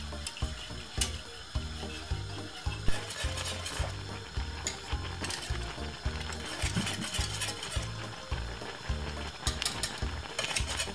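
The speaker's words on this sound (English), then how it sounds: "Take a little time and keep stirring it until it gets really thick." Cornmeal porridge being stirred in a pot on a stove, with a steady, rhythmic scraping and swishing that repeats throughout and carries faint bubbling from the cooking.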